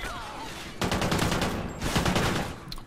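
Video game gunfire from Call of Duty Ghosts multiplayer: two loud bursts of rapid automatic shots, close and dense, separated by a brief lull.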